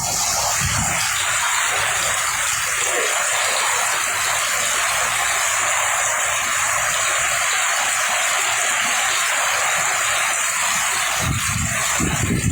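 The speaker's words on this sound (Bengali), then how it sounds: "বৃষ্টি কিন্তু সেই প্রথম থেকে যেমন জোরে হচ্ছিল" Heavy rain falls steadily on a village in Bangladesh during a hailstorm, a dense continuous broadband roar that stays loud and even throughout with no voices.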